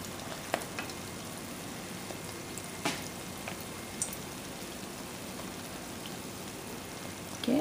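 Sweet khaja pastries fry in hot oil with a steady, soft, even sizzle broken by faint pops and bubbling, and no voices.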